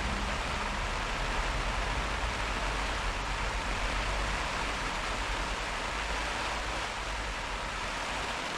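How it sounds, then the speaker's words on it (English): A garden hose sprays water onto a pop-up tent, producing a dense, steady hiss like heavy rain drumming on fabric, loud and unbroken throughout with no speech. "I'm not going to stick the hose straight on it."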